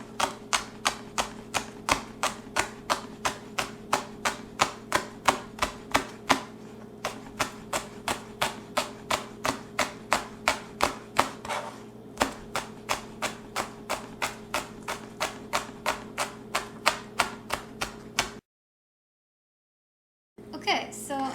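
Steady rhythmic knife chops on kale against a cutting board, dozens of quick close taps in an even rapid beat, pausing briefly midway and stopping near the end.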